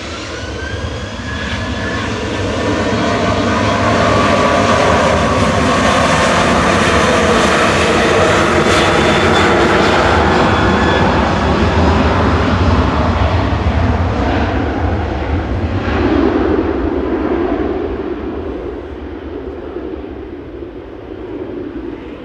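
A Ryanair jet airliner at Manchester Airport roars loudly and steadily for about twenty seconds, a broad engine rumble with a whining tone that swells and then eases slightly as the aircraft lines up and moves past.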